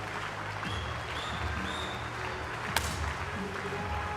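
Indian spectators applaud at a 10m air rifle women's final in New Delhi: steady, dense clapping under a constant crowd wash, with one sharp crack near the end.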